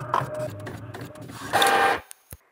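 Epson L3250 inkjet printer printing a 10x15 photo, a close mechanical whirring with shifting clicks and a louder feed burst near the end, then stopping.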